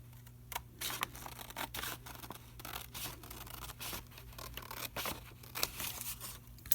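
Scissors trim a strip of paper straight for a journal stamp border, giving a run of close, crisp snipping and scratchy cutting noises over a faint steady background hum.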